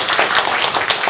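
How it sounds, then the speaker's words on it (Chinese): Dense, steady applause from a church congregation at a Christmas music concert in Tainan, filling the whole short stretch at a fairly loud, even level. "那给他鼓掌。"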